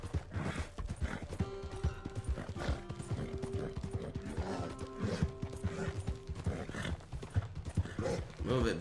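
Rapid clip-clop of galloping horse hooves in Red Dead Redemption 2, loud and close, with a horse whinny and people talking over it throughout.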